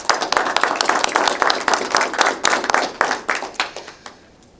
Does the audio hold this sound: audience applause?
yes